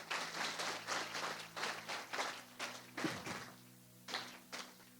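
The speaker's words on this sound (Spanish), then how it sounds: "Dale un aplauso al Rey de Reyes." Scattered, sparse hand claps ring out in a church, several distinct smacks in an uneven rhythm over a faint hum, fairly quiet and reverberant rather than a full ovation.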